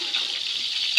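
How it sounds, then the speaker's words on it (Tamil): Onions and green chillies fry in a pan as they are stirred for biryani, a loud steady hiss with a brief scrape or clatter near the end and no speech. "நல்லா போட்டு கிண்டுப்பா"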